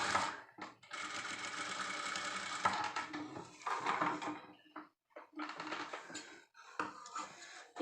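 A sewing machine stitching along the edge of a boat neck blouse runs in bursts of rapid mechanical whirring, with short pauses between runs, close and steady, with no talking.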